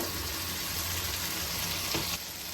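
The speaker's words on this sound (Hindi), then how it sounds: "1 से 2 मिनट हम इसे भूनेंगे, टमाटर हमारे इसी में सॉफ्ट हो जाएंगे" Masala and tomatoes sauté for arvi curry, giving a steady, close sizzle with brief stirring scrapes near the end.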